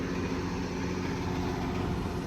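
A tractor engine runs steadily on a corn chopping crew, a low, even rumble with no pauses, close by, and no talking.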